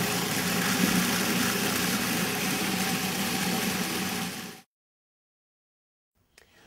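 A food processor blends a flour mixture for oatmeal date cookie dough, giving a loud, steady whirring roar that cuts off abruptly, followed by near silence and a faint knock.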